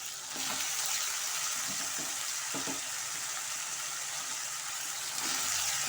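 Drumstick and brinjal sautéing in a pan for a South Indian thokku, a continuous bright sizzle with several scraping stirs of a spatula spaced through it, close and fairly loud.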